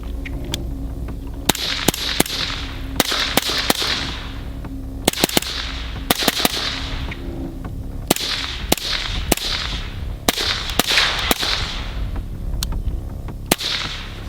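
Repeated suppressed rifle shots from a PTR fitted with a Surefire RC2 suppressor, heavier V7 gas tube and Daniel bolt, fired in loud, sharp cracks singly and in quick pairs and bursts over about fourteen seconds, with no talking.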